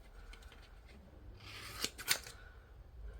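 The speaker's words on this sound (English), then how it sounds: "this piece we're actually going to cut in half now" Scissors snip through a sticky piece of a shaker cake topper, cutting it in half with two close, crisp cuts after a brief rustle, in a quiet room.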